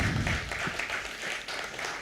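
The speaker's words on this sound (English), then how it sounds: "Round of applause." An audience at a coaches' awards ceremony applauds, a dense, steady wash of clapping from many hands, moderately distant and filling the whole moment.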